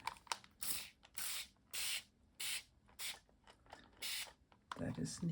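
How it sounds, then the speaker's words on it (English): A spray bottle mists onto a mixed media artwork in repeated short hissing bursts, about eight of them in an even rhythm, close and fairly quiet, followed by some handling noise at the end. "and then I have a bigger spray"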